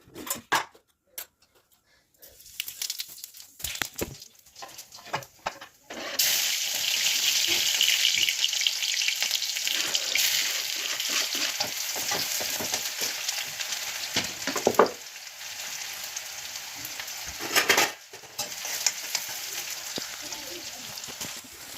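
Onion and then tomato go into hot oil in a pan, scattered clicks and scrapes at first, then a sustained loud sizzle with stirring, and a voice speaks at times.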